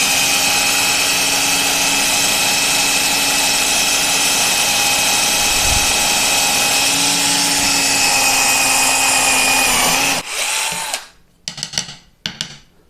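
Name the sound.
Buildskill cordless drill drilling teak wood with small bit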